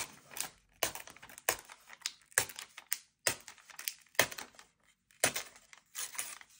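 Paper being torn by hand in short bursts, with close crisp ripping and crackling strokes separated by brief pauses, about a dozen tears over several seconds.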